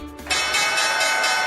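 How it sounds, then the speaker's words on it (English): A bell tolls for a stock market opening report on a morning news broadcast, a single loud, ringing strike that sustains and hums with slow pulsing decay. "time for the opening bell report"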